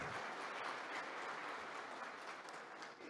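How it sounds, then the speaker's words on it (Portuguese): Audience applause at a Brazilian conference on mining investment in Minas Gerais, welcoming a CEO to the stage; steady dense clapping from a crowd, fairly even throughout, with no voices over it. "vamos recebê-lo com uma salva de palmas"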